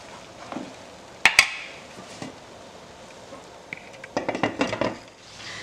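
A lid clatters onto a pot of Liberian dry rice left to steep. Two sharp metallic clanks come close together, then a quieter flurry of rattles and taps as it settles, over faint kitchen background.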